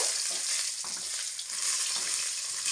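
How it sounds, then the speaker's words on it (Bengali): Eggplant pieces fry in hot oil in a pan, a dense, continuous hiss and crackle heard up close, with occasional soft stirring shuffles under the steady sizzle and no speech. "তেলের মধ্যে বেগুনগুলোকে দিয়ে প্রথমে ভেজে নেব"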